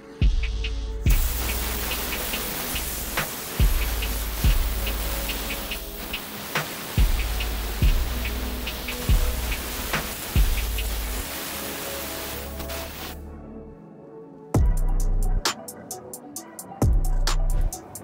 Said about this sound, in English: The air compressor definitely did its thing. It was able to loosen up the surface dust and the dirt.